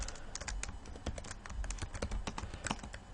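Someone types rapidly on a computer keyboard, a dense close run of light clicking keystrokes with no talking.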